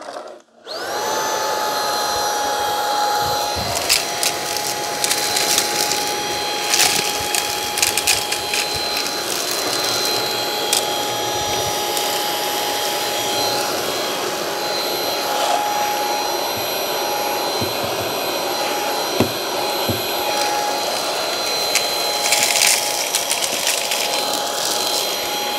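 A cordless stick vacuum, Shark or Anker Eufy, runs continuously across a linoleum floor with a steady high whine and motor hum, plus occasional clicks and rattles as debris is picked up.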